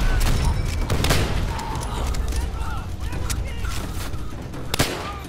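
Call of Duty: World at War co-op campaign gunfire crackles in sustained bursts with sharp individual shots, mid-level under excited player talk.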